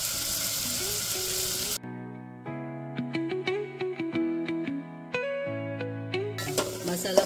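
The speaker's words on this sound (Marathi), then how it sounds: "मसाला फ्राय झालाय चांगला." Masala spices with curry leaves, turmeric and garam masala sizzle in a pan for prawn pulao, a loud steady fry heard at the start and again at the end, with tuneful music filling the middle.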